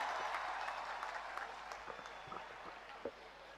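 A crowd claps at an award ceremony hosted by Yogi Adityanath to honour medal-winning athletes such as silver medallist Ravi Dahiya. The applause is dense and continuous, heard from some distance, with a few sharper claps standing out.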